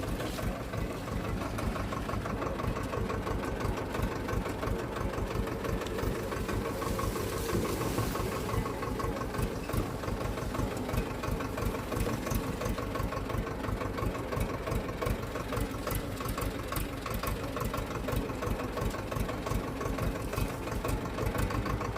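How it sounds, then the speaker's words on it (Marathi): A tractor engine runs on a farm field, a steady, loud, continuous diesel-like chugging and knocking that holds at an even level with no talk over it. "आता ट्रॅक्टर आल्यानंतर लगेच ट्रॅक्टरनं ओढून घेऊ."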